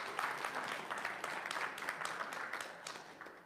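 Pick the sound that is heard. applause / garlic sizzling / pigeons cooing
applause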